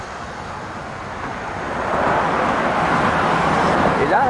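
Steady road traffic rumbles beside a Dutch train station, a continuous broadband wash of passing cars that swells a little louder midway and holds, with a faint higher tone near the end.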